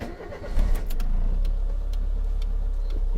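A Renault Twingo with its Cléon engine running, a steady low rumble close by that rises as it pulls away and then holds a continuous drone, with faint ticking on top.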